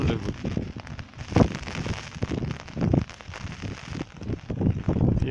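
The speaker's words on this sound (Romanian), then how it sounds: "Oricum plouă abundent." Heavy rain pours down in Stefanesti, Arges, making a steady, dense hiss with uneven gusty swells and close spattering bursts, fairly loud throughout.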